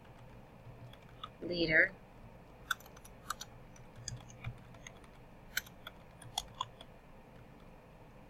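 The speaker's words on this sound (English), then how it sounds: "In my center box, I'm going to type in the project" Typing on a computer keyboard while entering text in Excel: scattered individual key clicks, close and soft, spread irregularly across the span, with a brief spoken word near the start.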